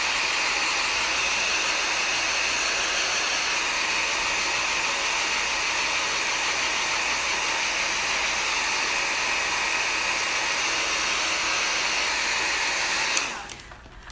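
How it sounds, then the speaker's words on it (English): A heat gun or hair dryer blows steadily for about thirteen seconds while drying acrylic paint on a Bible journaling page, a loud, even whooshing hiss heard close up that cuts off abruptly near the end. "heat gun or hair dryer will help you with that if you're in a hurry"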